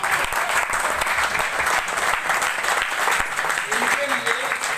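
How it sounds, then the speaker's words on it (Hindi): Audience applause at an insurance agent training and reward event, steady dense clapping that fills the whole stretch at a loud, even level, with talk faintly mixed in. "तालियां!"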